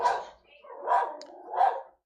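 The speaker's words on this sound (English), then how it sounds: "Ace is going to bark." A dog named Ace barks three times at a steady pace, each bark sharp and mid-pitched indoors, fairly close, with brief quiet gaps between them.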